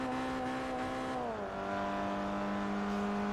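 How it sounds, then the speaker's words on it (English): A car engine in the racing video game Forza Motorsport 3 holds a steady droning tone, then drops in pitch midway as if shifting or easing off, and carries on at the lower note with no talking. "Honestly, the engine noise is amazing."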